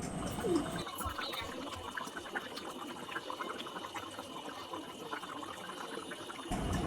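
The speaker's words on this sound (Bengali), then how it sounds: "এখানে দিয়ে দিলাম এবার ঝোলের জল" Water poured into a pan of Bengali chicken kasha curry to make gravy, a faint continuous liquid wash with low splashing that runs steadily and ends with a louder bump.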